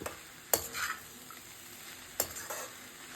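Tomato poha stirring and frying in a pan, with soft steady sizzling and two sharp scraping clinks of a spoon against the pan.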